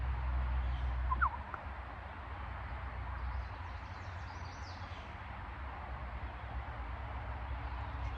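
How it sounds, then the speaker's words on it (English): Birds call faintly outdoors, a few brief high chirps rising over a low, steady background hum, heard alone with no talking. "Birds."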